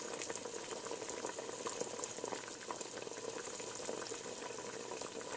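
Oxtails simmer in water for hours as they cook down into gravy, with a steady bubbling and gentle sizzle that stays close and even, free of any speech.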